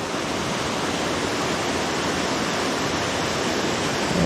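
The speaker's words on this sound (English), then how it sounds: "It looks like the waterfall continues up through there" A waterfall on the Pig Pen and Licklog Falls hike pours in a steady, loud, broadband rush that stays constant throughout, with no voices over it.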